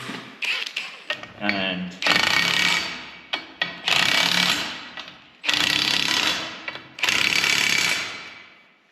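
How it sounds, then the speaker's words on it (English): Small power gun driving fasteners into wood, several loud bursts of rapid hammering each lasting about a second, with brief pauses, clicks and a few spoken words between them. "I'll just run these in quick with this little gun"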